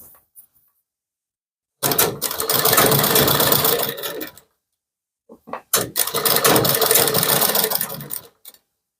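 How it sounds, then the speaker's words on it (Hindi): A sewing machine stitches a straight seam on a kurti in two loud, close bursts of rapid mechanical whirring, each running a few seconds and separated by a pause. "इस तरह से ऐसे एक पैर की सीधी सिलाई लगाते हुए चले जाना है।"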